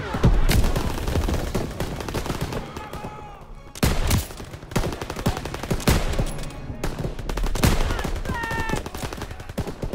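Call of Duty WWII combat: heavy machine-gun fire rattles in long rapid bursts with scattered louder gunshots and explosions, loud and close, while voices shout in the mix.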